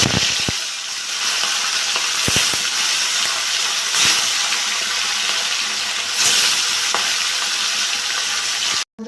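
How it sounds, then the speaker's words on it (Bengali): Katla fish pieces fry in hot mustard oil in a kadai, with a loud, continuous close-up sizzle and hiss. A few sharp clatters of a spatula break in, and no one speaks. "তেলটা গরম হয়ে গেছে, আমি মাছগুলো ভেজে নেব।"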